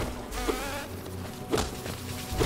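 Buzzing bees from the video game Hollow Knight drone in short bursts, with several sharp hits and thuds over the game's background sound.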